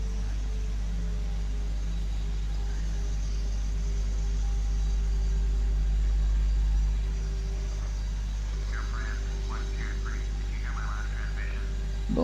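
An airliner taxiing at Blagnac airport gives off a steady, deep engine rumble and hum that swells slightly midway, with faint voices briefly audible toward the end.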